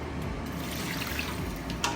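A small amount of water trickles into a pot of Jamaican-style cornmeal porridge made with coconut milk, a soft, steady close pour under low kitchen background noise.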